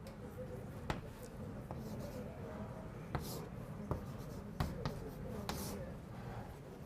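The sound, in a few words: writing on a board during a lecture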